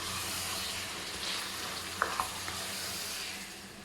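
Mutton fries with green chilli, coriander and ginger in a pan, giving a steady, close sizzling hiss, with a few soft clinks as it is stirred partway through.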